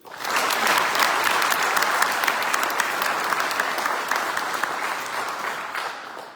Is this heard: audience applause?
yes